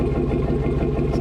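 A Chevy Silverado V8 fitted with an AWE aftermarket exhaust idles with a deep, steady, loping rumble, close and fairly loud throughout with no voices.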